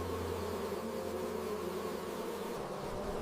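Dense, steady hum of many honeybees buzzing inside their hive, continuous and close with no breaks, no voices.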